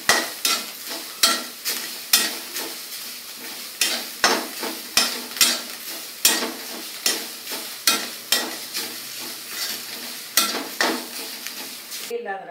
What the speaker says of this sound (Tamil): இது ஒரு 2 மினிட்ஸ் இப்படி நல்லா தேங்காவோட அந்த ஈரப்பதம் போற வரைக்கும் வதக்கிட்டோம்னா எடுத்து வச்சிடலாம்.